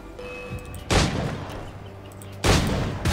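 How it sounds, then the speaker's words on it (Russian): Barrel exploding in the video game Assassin's Creed 4: Black Flag, two heavy booming blasts about a second and a half apart, each fading into a rumbling tail. "Ага, охеренный взрыв."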